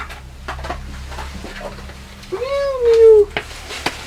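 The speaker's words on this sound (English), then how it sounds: "So, Andy, did you have a good chat with the kitties" Cats meowing, with one clear, drawn-out meow rising and falling near the end and a few quieter sounds before it, heard close in a quiet room.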